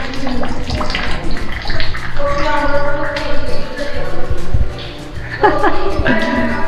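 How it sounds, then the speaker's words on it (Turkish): Water flows and splashes inside a cave, a loud, echoing gush with uneven surges, while people talk and laugh over it. "akan suya bak"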